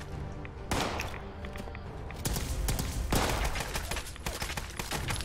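Rapid bursts of video game gunfire hammer into a wall, loud and close, with heavy thuds and a dense volley swelling several times across the stretch, no voices over it.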